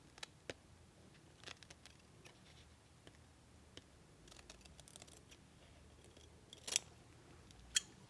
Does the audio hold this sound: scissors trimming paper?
yes